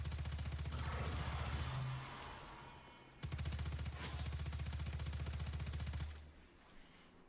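Rapid automatic fire from a Solstice SMG in the video game Destiny 2, sustained rattling bursts broken by a short gap, loud and close with no talking.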